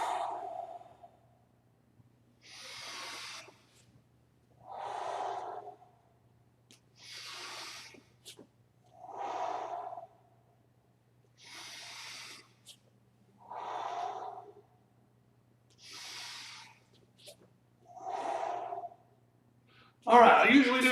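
Slow deep breathing exercise, about eight paced breaths alternating long inhales and exhales, close and clear with steady pauses between, ending on a louder burst.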